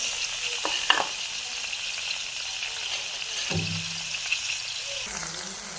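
Chopped capsicum and onion sauté in a pan with a low, steady sizzle, punctuated by a few scraping stirs and clinks of a utensil, close and moderately quiet.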